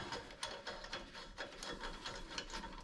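Lug nuts on a billet wheel of a 1955 Chevrolet Bel Air give off quiet, quick ratcheting clicks in short repeated bursts, close up and alone.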